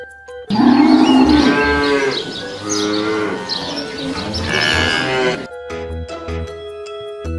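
A toy cow lets out a long, loud electronic moo followed by a second drawn-out moo, with bright toy music jingling before and after.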